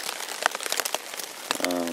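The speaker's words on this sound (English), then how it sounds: "I'm expecting it to rain for the most part of today, if not all day and night" Steady rain patters on a tent in wet woods, a dense close crackle of drops with a few louder taps, continuing alone without talk.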